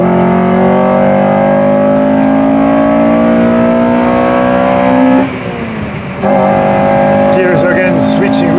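Honda FN2 Civic Type R with a K20 VTEC engine accelerating hard on the Nordschleife, a loud rising in-car engine drone climbing through the revs, a brief dip at a gear change, then pulling again.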